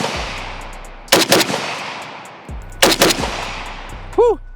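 An AK rifle in 7.62x39 fitted with a muzzle brake fires two pairs of rapid, heavily concussive double-tap shots, loud and close, with a faint voice between bursts.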